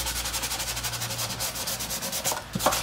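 Hand sanding of a Trigger 2 guitar body: quick, even, rhythmic rubbing strokes of abrasive on the wood, close and continuous, with a couple of louder scuffs near the end.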